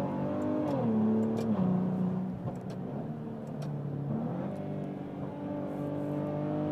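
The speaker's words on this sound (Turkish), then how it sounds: "Şu an normal moddayken de çok tatlı bir ses çıkartıyor egzozdan. Hiç fazla değil ama sporta aldığımızda hemen" A Maserati Levante twin-turbo V6 petrol engine pulls through its gears in sport mode, the exhaust note rising and dropping with shifts, a steady close drone from inside the moving car with road noise and no talk.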